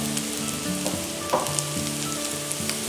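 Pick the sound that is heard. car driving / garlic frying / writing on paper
garlic frying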